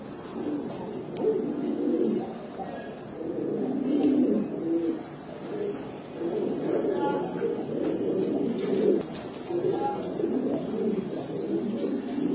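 Caged Giribaz pigeons at a sale coo in low, rolling, repeated phrases, a continuous murmur close by as people talk in the background.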